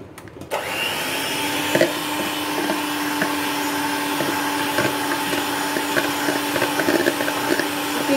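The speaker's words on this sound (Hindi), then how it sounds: "अब हम चलते हैं एक एक करके अंडे डालते जाएंगे और बीट करते जाएंगे" Electric hand beater whirring steadily as eggs are beaten one at a time into oil brownie batter, a continuous motor drone with slight wobbles from the bowl, close and fairly loud.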